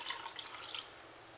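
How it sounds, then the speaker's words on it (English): Water poured from one container into another, a brief soft splashing trickle close by that tapers off after about a second, faint and alone. "what I'm going to do is take the water that's in this one and pour it in"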